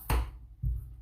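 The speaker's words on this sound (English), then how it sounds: "And then just start chopping until you think you've got enough." Two firm knife chops on a cutting board while preparing burger ingredients such as pepper, each a short sharp thud about half a second apart, close and clear with no talk.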